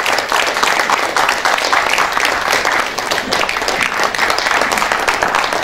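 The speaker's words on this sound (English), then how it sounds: "Please give a big hand." A conference audience at a business conclave bursts into loud, continuous applause for the chief guest of honor, a thick wash of many hands clapping with faint voices underneath.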